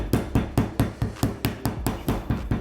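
Rolling pin thumping down on galette dough on a counter, about eleven firm, evenly spaced dull beats in under three seconds, close and alone.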